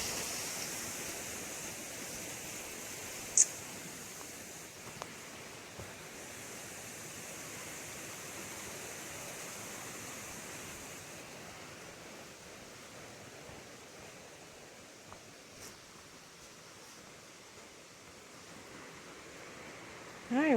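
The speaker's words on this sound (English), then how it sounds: "we're going to continue walking beside this creek for a little while" A creek on the Foothills Trail flows steadily, a constant broadband rush of moving water with no pauses, with only a few faint clicks and knocks above it.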